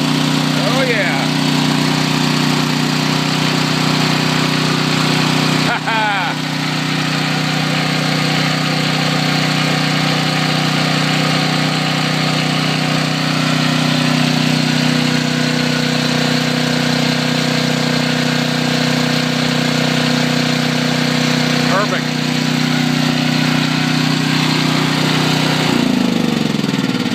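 A small gasoline engine idles close by with a steady droning hum for a long stretch, someone talking briefly over it.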